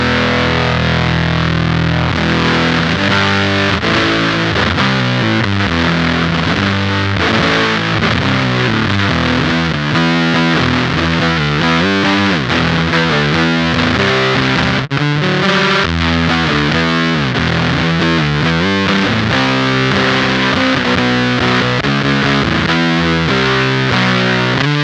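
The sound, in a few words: electric guitar through Beetronics Octahive V2 fuzz pedal at 75% boost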